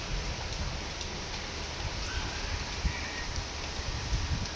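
Steady, soft rain hisses continuously, with faint scattered drips and a low rumble beneath it, no voices.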